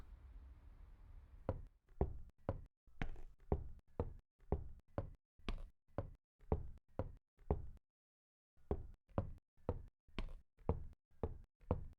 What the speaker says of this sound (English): You hear the front door unlock.